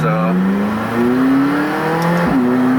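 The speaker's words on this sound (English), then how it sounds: "want you to hear the exhaust, which you pay extra for" A McLaren 570S engine revs and climbs in pitch, its optional sports exhaust droning loudly as it accelerates, with a voice speaking over it.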